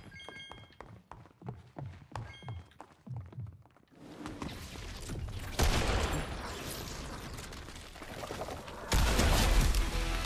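Gunfire in a Fortnite murder mystery match: a run of quick thumping footsteps gives way to loud, dense bursts of shots and impacts that swell toward the end.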